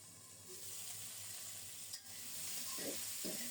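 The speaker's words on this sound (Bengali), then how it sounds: "আম আর মিষ্টি কুমড়ো ভালোভাবে নেড়ে চেড়ে একটু কষিয়ে নিতে হবে" Pumpkin and mango pieces stir-fry in a pan with a faint, steady sizzle, joined near the end by a couple of soft scraping stirs.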